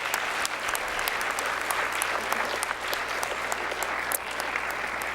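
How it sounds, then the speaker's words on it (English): An audience applauds an award recipient at a superintendent's awards ceremony, with warm, sustained clapping from a seated crowd holding steady for several seconds, with little else heard. "let's give her a round of applause"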